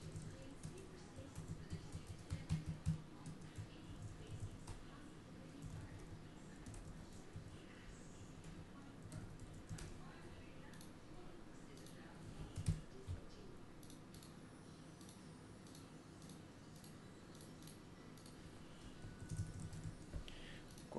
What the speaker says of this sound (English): And I type in Mark.